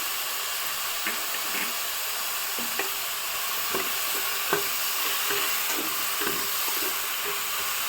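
Spices for a mushroom pulao fry in a pan with salt and garam masala, making a loud steady sizzle and hiss, punctuated by soft irregular taps and scrapes of a spoon stirring, with no speech.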